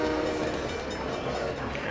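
A train in the video game SimCity 3000 rumbles along the tracks with a steady, dense clatter and whistle-like tones, loud throughout.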